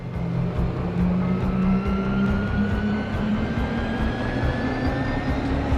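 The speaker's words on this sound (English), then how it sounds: "I just really wanted to show you how cool the harvester is when it takes off." Harvester spaceship in the space game Genesis Alpha One lifts off with a steady, loud roaring engine drone and a slowly rising whine, continuous and close throughout.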